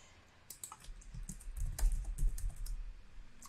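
Typing on a computer keyboard while entering text into a WordPress plugin directory search, a quick run of close, soft key clicks building in the middle and continuing at a steady pace.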